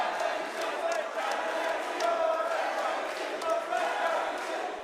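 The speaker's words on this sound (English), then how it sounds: "Crowd rallying behind M80." An esports arena crowd at the 2024 Manchester Major quarterfinal roars steadily behind M80 against DarkZero, a dense, continuous wall of cheering and shouting that swells slightly and fills the whole stretch.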